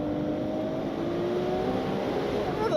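The turbocharged engine of a Ferrari 296 GTS pulls hard under acceleration, its tone climbing steadily with turbo spool and rushing wind, loud and sustained from inside the open-top car.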